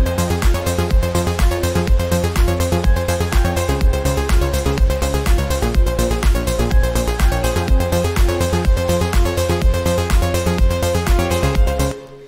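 Electronic dance track, an Ableton remake of a song in a remix style, with a dense full mix over a steady pulsing low beat, loud and continuous before cutting off abruptly at the end.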